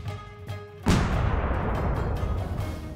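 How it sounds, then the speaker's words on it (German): A cannon fires Link as a human cannonball in a Zelda video game, one sudden loud boom followed by a long roaring rumble that fills the rest of the moment. "Kann Link zu einer menschlichen Kanonenkugel werden und hiermit abgefeuert werden?"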